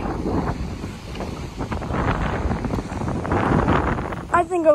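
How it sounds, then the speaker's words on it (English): Strong wind buffeting the microphone outdoors, a steady loud rumbling roar with gusts throughout. "the wind's pretty strong"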